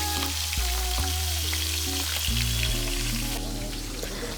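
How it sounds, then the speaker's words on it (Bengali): Fish pieces rubbed with salt and pepper fry lightly in hot oil, a close, continuous sizzle with occasional stirring, no voices. "মাছগুলোকে নুন আর গোলমরিচ দিয়ে মেখে খুব হালকা করে ভেজে নেব।"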